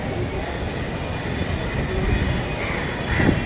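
A metro train rumbles steadily through a crowded metro station, a dense wash of low mechanical noise and crowd murmur that swells slightly toward the end.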